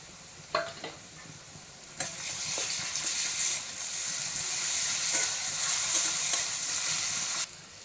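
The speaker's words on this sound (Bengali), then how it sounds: "পেঁয়াজ হালকা ভাজা হয়ে গেছে, এবার রসুন বাটা দিয়ে দেবো।" Garlic paste hits lightly fried onions in hot oil for a catfish and drumstick curry, giving a sharp clatter and then a steady loud sizzle. The sizzle continues with faint stirring until it cuts off near the end. There is no talk.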